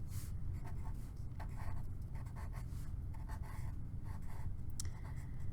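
Pen scratching short jagged lines onto paper in quick repeated strokes, a soft close rasping with brief pauses between marks, faint and alone.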